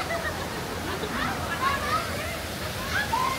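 A waterfall at Pangalengan rushes as a steady broadband roar of falling water, with faint whistled or chirping tones drifting over it.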